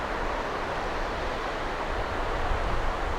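A river rushes steadily close by outdoors, a dense even wash of flowing water with no pauses, moderately loud and unbroken throughout.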